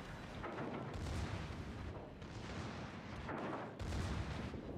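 Warship guns firing in a naval battle video game, with heavy booming salvos and rumbling blasts that roll in and out across the clip, dense and loud, with no voices.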